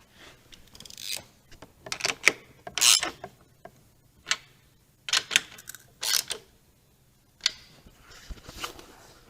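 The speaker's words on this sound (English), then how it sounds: "we're going to go ahead and tighten up the turn signal bolts" Motorcycle turn signal bolts being tightened during a 2014-or-newer bagger handlebar install: a string of short, close mechanical clicks and ratcheting bursts with quiet pauses between them, no talking.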